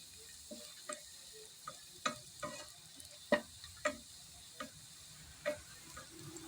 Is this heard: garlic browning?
yes